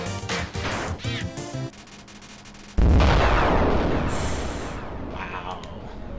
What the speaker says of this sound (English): That is an epic explosion of awesomeness.